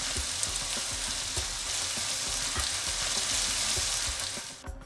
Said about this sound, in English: Add the rice, tomato into the pan. Give it a good fry, good stir up.